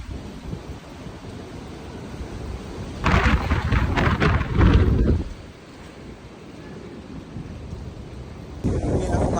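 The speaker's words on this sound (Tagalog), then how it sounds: "Nakakatakot na yung bagyo." Typhoon Ragasa lashing Macau, with loud wind and heavy rain roaring steadily, a harsh surge of storm noise in the middle and another gust building at the end.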